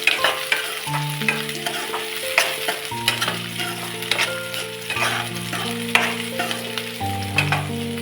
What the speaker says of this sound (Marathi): त्यामध्ये आपण टाकूया हिरवी मिरची हिरवी मिरची सुद्धा एक मिनिटाची परतून घेऊया